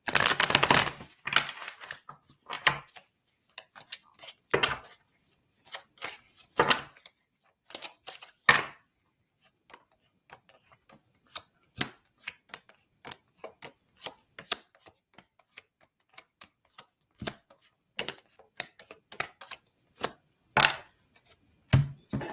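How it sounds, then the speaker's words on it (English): Tarot cards being pulled and handled, with sparse sharp flicks and taps of card against card and table, irregular and close, separated by near-silent pauses. "I'm going to pull some more cards for you"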